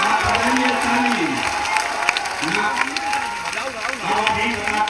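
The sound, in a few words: crowd applause at political rally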